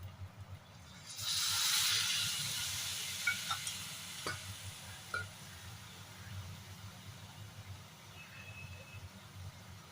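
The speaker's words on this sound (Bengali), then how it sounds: "এবার আমি ঢেলে দিচ্ছি জল।" Water is poured into a hot, well-fried curry of elephant foot yam and potatoes, setting off a sudden loud hissing sizzle that fades over a few seconds, with a few spoon clinks and a soft bubbling afterward.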